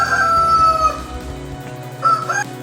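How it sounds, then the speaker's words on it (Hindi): A rooster crows loudly and close, one long drawn-out call followed by a shorter second crow, with no other sounds around it. "Cock और rooster crow."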